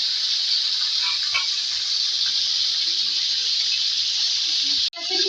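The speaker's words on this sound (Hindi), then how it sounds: "तो फ्राई करेंगे।" Boiled dumba mutton, about half a kilo, frying in hot oil gives off a steady, close, loud sizzling hiss that cuts off abruptly near the end.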